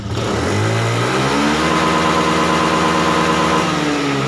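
A Honda Scoopy scooter with a stuttering fault revs as the throttle is twisted slowly, its engine note climbing steadily and holding loud and close with no talk over it.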